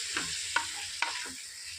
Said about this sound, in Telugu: కరివేపాకు, కొత్తిమీర అన్నీ కూడా బాగా వేయించుకొని